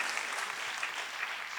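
Steady applause from a crowd at a Christian worship gathering, a dense patter of clapping that holds at an even level throughout without any voices.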